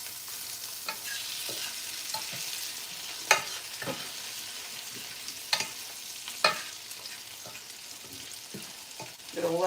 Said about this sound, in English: Gonna let that simmer a bit.